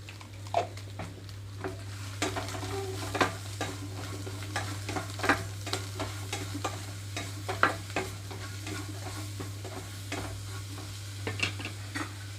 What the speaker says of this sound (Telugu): ఇందులోకి వంకాయ ముక్కలు కూడా వేసేస్తున్నాను వంకాయ ముక్కలు వేసిన తర్వాత కండ్రెక్కకుండా ఉండడం కోసం కొంచెంగా సాల్ట్ వేస్తున్నాను